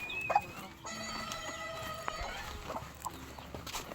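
Chickens cluck and call in short bursts against a quiet rustling background, with a few sharp knocks scattered throughout.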